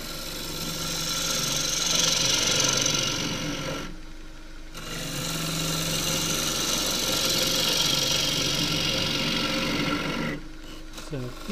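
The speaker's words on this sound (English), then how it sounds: "I'm going to start off with this, roughing this with the 3/8 bowl gouge, deep fluted bowl gouge." A 3/8 deep fluted bowl gouge roughing a small green casuarina bowl on a lathe: a continuous loud, rough cutting rasp over the motor drone, stopping briefly twice.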